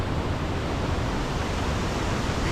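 Sea Creek Falls in the Georgia mountains, running high with water: a dense, steady roar of falling water, loud and unbroken throughout, with no voices.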